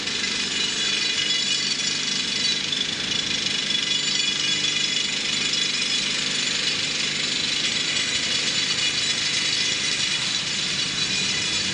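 Steady, loud mechanical roar of a tractor-driven drilling machine boring blast holes for a well, running continuously, a dense broadband drone with no pauses and no voices.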